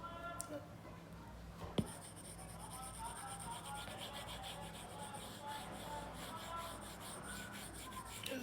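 Erasing written values on a board, a soft continuous rubbing scrape close by with one sharp tap early on, while a voice talks faintly underneath.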